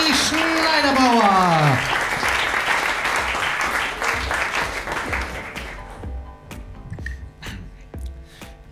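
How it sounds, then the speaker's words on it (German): Loud crowd applause at a poetry slam fills the opening seconds while a host speaks German over it, then the clapping thins out into scattered individual claps near the end. "Einen großen Applaus bitte für die Startnummer 10"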